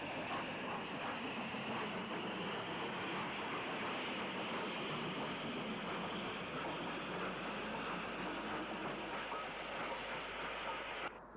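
Locomotive 92091 pulling away from Brackley Central on the Great Central line toward Marylebone, a loud, steady, close rail roar sustained throughout with no voices, cutting off abruptly at the end.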